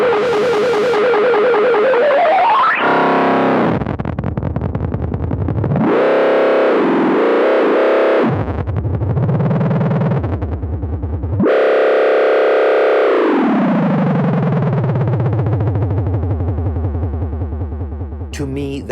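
Moog Moogerfooger effect plugin running on iOS, giving a thick, analog-style distorted synth tone that sweeps and swells, with sustained droning passages broken by short gaps, loud and continuous with no talking.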